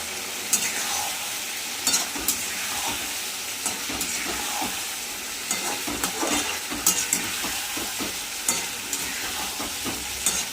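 Parshe fish curry with pointed gourd and potato being sautéed in a pan, with steady frying sizzle and repeated scraping stir strokes throughout, no talk.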